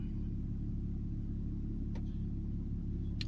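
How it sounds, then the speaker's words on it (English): A Land Rover engine idling after start-up, a steady low rumble close by and unchanging throughout, with a couple of faint clicks over it. "now I've started the vehicle up"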